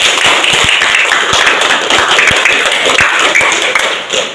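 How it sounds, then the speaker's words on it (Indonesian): Classroom clapping for a student, Mas Ivan, at a school event on positive culture; dense, steady clapping from a group fills the whole stretch at close range, fading slightly at the end. "Tepuk tangan dulu Mas Ivan"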